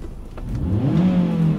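A car engine revs up as the gas pedal is pressed during a driving lesson, a short rising rumble heard up close and fairly loud.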